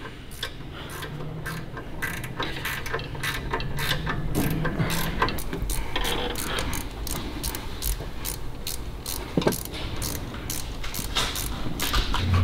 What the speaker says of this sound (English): Where'd that big long ratchet go? And the 10 mil.